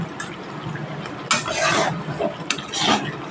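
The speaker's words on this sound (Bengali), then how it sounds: "প্রত্যেকটা উপকরণগুলো দিয়ে ভালোভাবে কষিয়ে নেব" Pointed gourd and prawn curry being sautéed with spices, ghee and garam masala, with two bursts of spoon-stirring and scraping over a low background, no speech.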